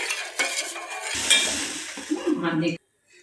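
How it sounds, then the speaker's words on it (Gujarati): Milk for mava malai kulfi is stirred in a pot over a low gas flame, a close, continuous swishing scrape with light sizzle that stops abruptly. "આપણે 5 થી 7 મિનિટ હલાવતા જ રહેવું ધીમા ગેસે."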